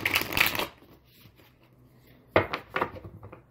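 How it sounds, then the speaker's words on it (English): Tarot cards are riffled and shuffled close up in two quick bursts separated by a quiet pause, with no talking. "I'm going to shuffle one more time."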